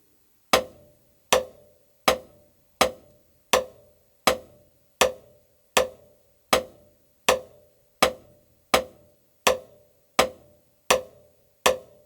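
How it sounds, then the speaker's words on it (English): Steady, evenly spaced unaccented single paradiddle taps on a drum practice pad, about one per second at an even medium volume, dry and close with no voices. "the first step is to play the single paradiddle without any accents"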